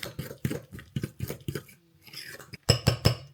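A spoon stirs cake batter with baking powder in a bowl, making rhythmic scraping strokes and light clinks, with a short pause midway before quicker strokes resume.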